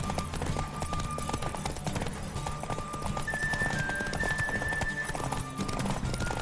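Galloping horse in The Witcher 3 pounds out a fast steady hoof rhythm, layered under soft in-game music and low background tones, moderately faint.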